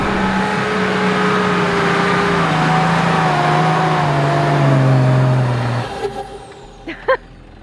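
A 4WD with both lockers engaged revs hard in fourth low trying to climb a steep rugged hill track in Tasmania, the engine droning loud and close for about six seconds before cutting off, followed by a few brief knocks.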